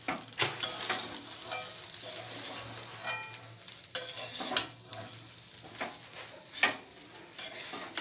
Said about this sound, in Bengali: আমরা খানিকক্ষণ ভালো করে নাড়াচাড়া দিয়ে মিলাবো।